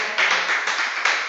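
A church congregation applauds together during a sermon on the true gospel, a steady wash of many hands clapping close and fairly loud for over a second with no talk on top.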